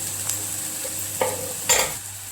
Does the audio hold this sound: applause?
no